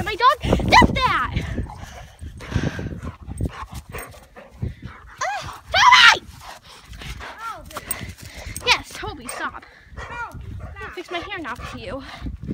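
A dog barks and whimpers in short bursts indoors, with a person speaking over and between the yelps throughout.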